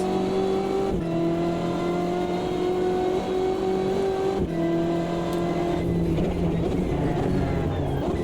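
A Corvette C8R GT race car in the Automobilista 2 racing simulator holds a loud, steady engine drone, with brief dips at two gear shifts and a rougher, busier tone toward the end.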